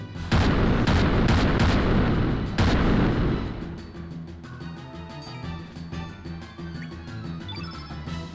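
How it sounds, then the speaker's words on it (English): Cannon fire from the PS1 video game Chrono Cross, a loud booming barrage of several heavy blasts over the first three seconds, then fading into ringing game music and effects. "And then we'll get Fargo involved with the cannons."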